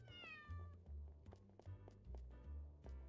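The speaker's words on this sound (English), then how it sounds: "I heard a cat" A cat meows in the video game Radiata Stories, one clear high cry near the start, followed by soft thumping footsteps and taps.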